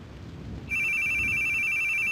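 A phone starts ringing abruptly partway through, a loud steady electronic trill that continues to the end over a low rumbling background.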